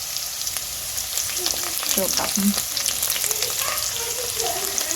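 Green masala for a chicken dish frying in a pan, a steady crackling sizzle with stirring scrapes and a few louder spatters, close by, with brief voices partway through.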